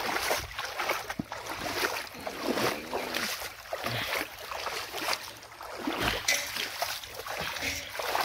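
Water flows steadily through an open drainage channel beside a muddy road in the rainy season, a continuous broadband rush with occasional splashes, fairly close and alone without talk.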